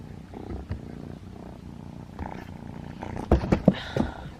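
A tiny injured kitten purrs softly and continuously close to the listener, a low rumbling drone, with a few louder rustles and bumps of handling near the end.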